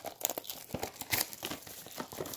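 Plastic wrap is torn and crinkled off a Funko DC Super Heroes mystery mini toy box, close and fairly quiet, in a rapid series of crackling crinkles and short tearing bursts.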